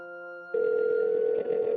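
A telephone rings out while a call is placed to a wedding hall: a low steady tone first, then a loud sustained ring tone that runs continuously with a brief dip near the end, with no voices.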